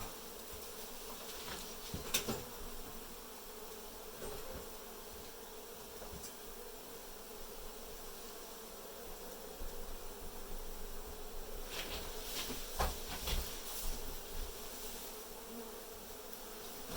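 Honey bees drone steadily through a hive cutout in Dorrance, Kansas, a continuous close buzzing with a few louder passes as individual bees fly near, heard alone without talk.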